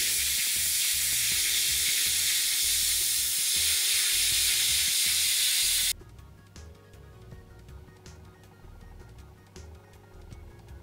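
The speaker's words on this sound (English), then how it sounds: "The final touch on this ballast method is given by airbrushing on some rust on and around the tracks." An airbrush sprays rust-coloured paint onto ballasted model railway track: a loud, steady hiss for about six seconds, then it cuts off, leaving quieter background sound.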